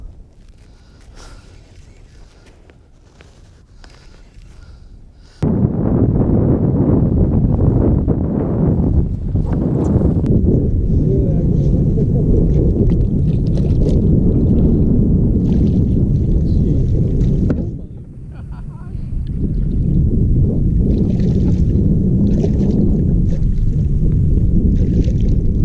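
A boat ride out on the water, with a loud, continuous roar of motor and wind rushing past for most of the stretch, briefly dipping before surging again, with no talking.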